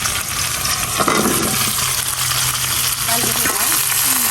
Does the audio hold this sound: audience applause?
no